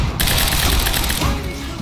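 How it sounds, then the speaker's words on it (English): Dense enemy gunfire from the Quantum Break video game, a loud continuous barrage of rapid overlapping shots that holds steady throughout. "Why are they still shooting?"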